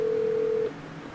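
A steady telephone tone sounds for about half a second and then cuts off, leaving quiet room noise, as a call is placed to a house phone.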